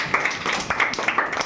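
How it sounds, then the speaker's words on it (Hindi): A small classroom audience at a quiz on Mesopotamian civilisation claps briefly for a correct answer, a quick patter of a dozen or so hand claps, close and lively. "ताली मारो इनके लिए।"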